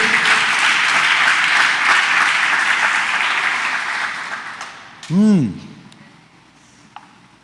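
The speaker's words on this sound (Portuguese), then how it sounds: "Dá um aplauso ao Senhor aí." A church congregation bursts into sustained, dense applause that fills the space for several seconds, then thins and fades out, followed by a brief rising vocal exclamation near the end.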